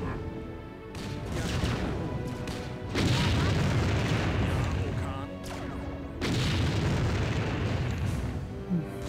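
Heavy artillery booms and explosions roll through a battle in the real-time strategy game Empire Earth, with loud sustained blasts swelling in several waves over continuous low rumbling.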